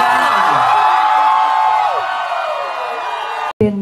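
A packed drag show crowd in a New York City venue cheers, whoops and applauds loudly, with shrill shouts over the clapping before an abrupt cut.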